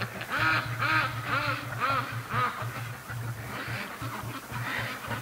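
Free-range ducks on an icy lake quack in a repeated series of loud, close, nasal calls, several birds overlapping in rhythmic bursts over a low background hum.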